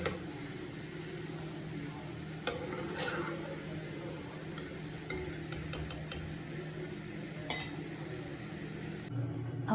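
Fried ginger for a pickle scooped out of the pan into another vessel, with a steady sizzle of frying underneath and a few sharp metallic scrapes and clinks of the ladle.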